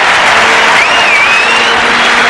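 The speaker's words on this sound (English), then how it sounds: "the crowd booing the decision to bring Jarman off" A large stadium crowd at a 1992 AFL match between Adelaide Crows and North Melbourne roars steadily and loudly, a dense continuous wash of many voices with no pause.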